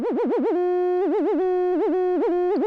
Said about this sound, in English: if I run it in LFO mode, then it becomes like vibrato